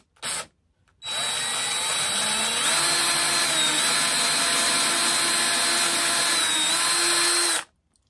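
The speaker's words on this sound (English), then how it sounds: "I'm going to drill a hole right there in that center too" Power drill boring a hole into the center of a wooden walking stick: a short trigger blip, then one sustained loud whirring run of about six seconds with slight pitch shifts as the bit bites, then it stops.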